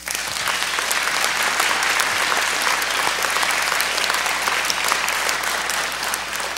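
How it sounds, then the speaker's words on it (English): An audience at a children's Christmas musical applauds steadily, a dense, even wash of clapping from many hands that holds at a constant loudness throughout. "Let's give them a big hand."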